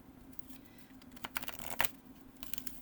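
Soft, quick riffling and shuffling of tarot cards, a few sharper flurries in the middle, faint and close against a low steady hum.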